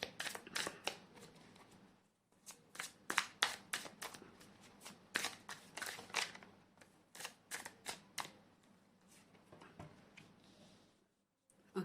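Tarot cards are shuffled and laid out by hand, in bursts of crisp riffling and flicking that come in quick clusters with brief gaps, close and fairly quiet.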